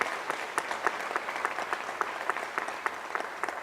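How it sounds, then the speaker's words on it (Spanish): Audience applause at an open parliament session in Zacatecas, a steady, moderately distant patter of many hands clapping throughout with no voices over it. "un aplauso para todos"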